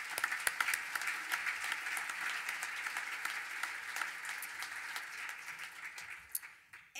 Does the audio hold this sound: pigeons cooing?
no